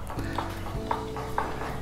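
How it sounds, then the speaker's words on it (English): A spoon stirs yeast into lukewarm water in a bowl, giving three light clinks against the container over a low background hum, close and soft. "and stir that up."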